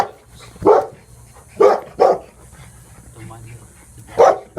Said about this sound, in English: mind the dogs next door